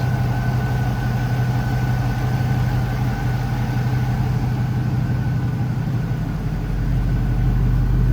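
A 1992 Chevrolet C15 Blazer V8 engine idles smoothly and steadily, a deep low rumble with a constant even tone throughout.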